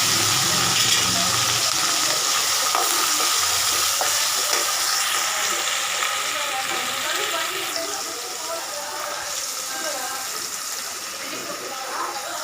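Onions sautéing in a pan, a steady bright sizzle with stirring scrapes running continuously close by, easing slightly toward the end.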